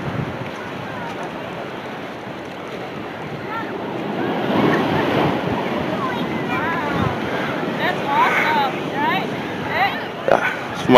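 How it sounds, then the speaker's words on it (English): Ocean surf rolls steadily at Newport Beach with wind rumbling across the microphone, a continuous wash of waves, with faint voices in the distance. "listen to the ocean, chill on the beach"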